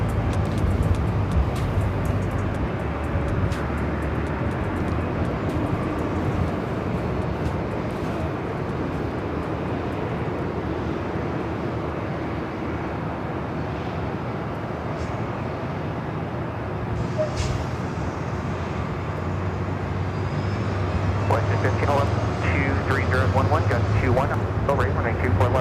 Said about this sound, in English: WestJet is the next takeoff. Heading to Calgary, a 737-800.